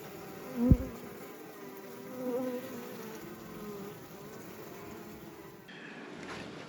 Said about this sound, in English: I know there's a cluster of bees up here